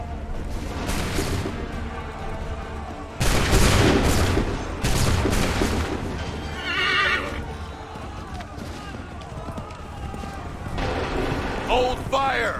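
Volleys of musket fire in the video game Assassin's Creed 3, loud booming bursts crashing out in separate waves amid shouting soldiers, horses neighing and hooves clattering.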